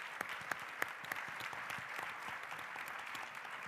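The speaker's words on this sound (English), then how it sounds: "Let's give them all a round of applause." Audience applause at an education summit session, steady, moderately faint clapping from a seated crowd with a few sharper claps near the start.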